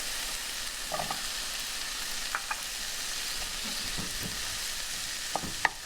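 Onions, garlic and pepperoni fry in a pan with a steady soft sizzle, punctuated by a few light clicks and scrapes of stirring.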